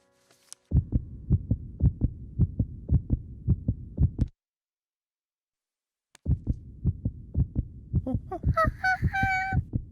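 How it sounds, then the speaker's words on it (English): A heartbeat heard through a stethoscope thumps in a steady, regular double rhythm, muffled and low, pauses briefly, then resumes as a short cartoon musical flourish plays over it. "That's the sound of my heart."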